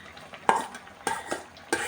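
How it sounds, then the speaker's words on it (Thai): Chicken and sliced boiled bamboo shoots are stir-fried in a pan, with three sharp scraping stirs over a soft, low sizzle. "เป็นหน่อไม้ต้มนะคะหั่นซอยมาแล้วนะคะเพื่อนๆค่ะ เนี่ยก็จะใส่ลงไปเลยนะคะ"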